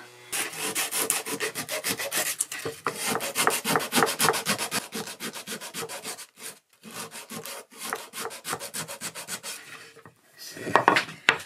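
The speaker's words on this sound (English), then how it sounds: "This is how I sand things at the moment" Steady back-and-forth scraping of sandpaper on wood, rhythmic rapid strokes with brief pauses, close and moderately loud.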